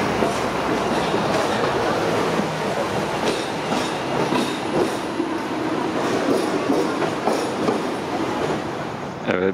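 A train rolls through a Hong Kong high-speed rail station, heard from above as a steady, loud rumble with rhythmic wheel clacks and faint squeals throughout.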